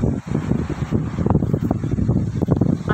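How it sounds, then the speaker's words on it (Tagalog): Strong gusting wind buffets the microphone in a steady rough roar at sea at night with waves, no voices, just continuous blustery noise outdoors. "Dahil malakas yung alon at saka yung hangin dito."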